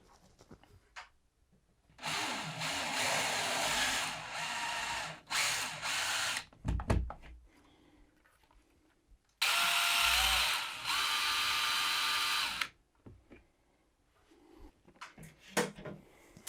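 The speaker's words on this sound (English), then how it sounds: "mark the hole positions ready for drilling." A power drill bores holes to mount rails for electric pleated skylight blinds, running in two long bursts of steady high-pitched whine separated by quiet pauses with small handling clicks.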